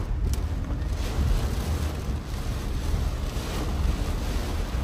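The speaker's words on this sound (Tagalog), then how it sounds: "Lakas ng hangin." Strong wind blows during a heavy rainstorm with flooding, a loud, continuous roaring rush buffeting the microphone close up for the whole stretch, no voices.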